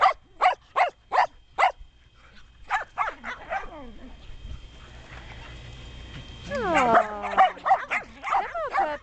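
Newborn puppies on their first outing onto a blanket, giving a run of high, evenly spaced yips and whimpers, then a quieter stretch and a burst of overlapping whines and squeals, close and fairly loud.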